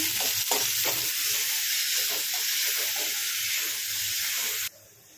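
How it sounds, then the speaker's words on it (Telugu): Sliced onions, green chilies and dried chili frying in a village-style pan give a loud, close crackling sizzle, with soft stirring knocks early on, until the sound cuts off abruptly near the end. "ఉల్లిపాయలని బాగా ఫ్రై కానివ్వండి."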